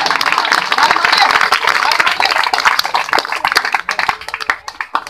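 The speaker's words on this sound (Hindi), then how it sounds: "ताली बजा दो, ताली मारो दो हाथ" A street-magic crowd claps loudly at a roadside magic show, a dense patter of many hands that thins into scattered claps near the end, with someone talking over it.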